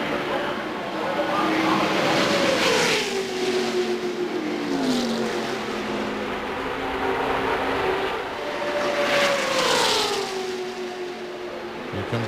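NASCAR stock cars at the 1998 DieHard 500 roar past in loud sweeping passes, engine pitch dropping as each car goes by, with a second wave of cars following about halfway through over steady crowd and track noise.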